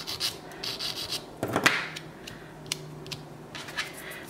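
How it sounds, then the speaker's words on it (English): A nail file lightly brushed back and forth over fake nails on a practice hand, giving soft, close rasping strokes in short irregular bursts with one louder scrape midway; no voices. "they said you can take your nail file. I'm not really filing, by the way. I'm just like brushing it over."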